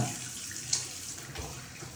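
Running tap water washing a stain from cloth, a faint steady splashing flow with one brief splash near the start.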